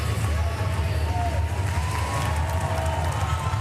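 A Paralympic arena crowd roars steadily during a women's up-to-86-kg para-powerlifting lift. The dense, continuous, fairly loud wash of cheering holds for the whole stretch without breaks.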